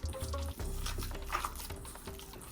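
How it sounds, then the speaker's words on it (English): Hands squish and knead spiced minced meat for kofte, a wet, continuous smacking and squelching close up, steady throughout with no talking. "Got all my spices in the mince. I'm going to mix it in together."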